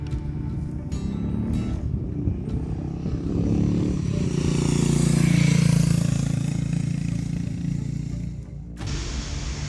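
Steady engine drone from a Harley-Davidson X440 motorcycle, a continuous loud rumble that swells toward the middle and eases off, with no talking over it.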